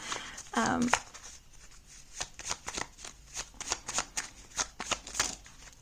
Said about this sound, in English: Actually, I'm gonna shuffle one more time.